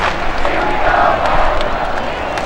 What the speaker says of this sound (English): Well, the crowd's all excited, but they want more.